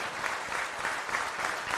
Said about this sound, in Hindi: खड़े हो करके एक बार जोरदार तालियों से स्वागत करेंगे अपने सभी नेहरूमा नेताओं का, जोरदार तालियों से।